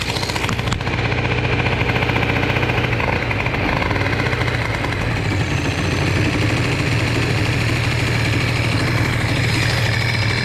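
A Bidalot RF 50 WR moped's small two-stroke engine idles running too lean, a loud, close, continuous buzzing rattle with a fast, even pulse and no break over ten seconds.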